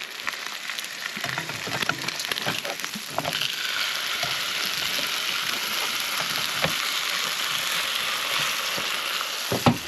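T-bone steaks fry on a camp cooker outdoors, giving a loud, steady close sizzle that carries on without a break, with a few sharper crackles scattered through it.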